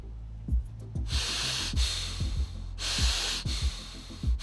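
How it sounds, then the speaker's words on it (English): Nasal breathing through a nose fitted with a Rhinomed Mute nasal dilator, heard as close, airy inhales and exhales in a slow rhythm, several hissing breaths with short pauses, no talking. "listen what this sounds like when I have the Rhinomed Mute Nasal Dilator in my nose."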